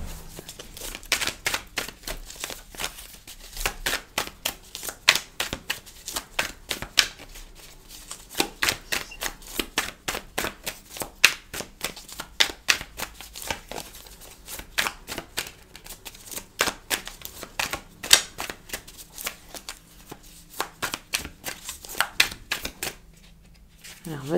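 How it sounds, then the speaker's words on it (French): Tarot cards are shuffled by hand in a long run of rapid crisp riffles and flicks, close and steady, with a voice speaking over parts of it. "je mélange les cartes"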